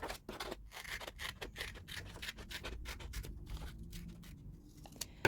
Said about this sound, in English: And so you cut the pieces